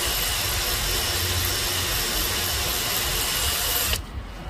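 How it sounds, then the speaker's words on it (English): A power drill whines steadily at close range, boring into a broken bolt in a Volvo B7 double-decker bus exhaust manifold, a continuous high-pitched grinding drone that cuts off abruptly near the end. "then we go to the bigger size of the drill"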